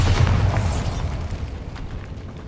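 A Bombarda spell goes off in a Harry Potter game as a deep booming blast, loud at first and then rolling into a fading rumble, with no speech.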